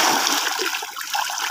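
Fish splash and churn the water as they snatch food from a hand, giving a steady, close, frothy sloshing with small bursts of spray.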